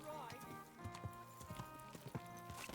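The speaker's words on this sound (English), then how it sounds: "Hey! Your horse nearly trampled me." Horse hooves clip-clop in Kingdom Come 2, an irregular trotting beat of sharp hits passing close by, with a voice speaking over it.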